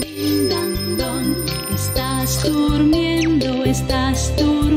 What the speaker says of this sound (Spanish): Suenan las campanas, din dan don, din dan don.